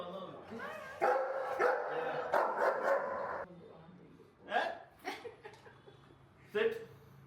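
A dog barks and yips excitedly near an arriving group in Bangalore, the barks coming in bursts under and between people talking.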